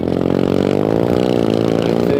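Motorcycle engine revving steadily up and down, a loud, close, continuous buzzing drone with rising and falling pitch and no talk over it.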